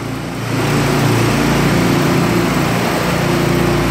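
A 4,000 PSI, 4-gallon-a-minute power washer driving a direct impact surface cleaner gives a loud, steady engine drone and broadband hiss, held without a break from start to end.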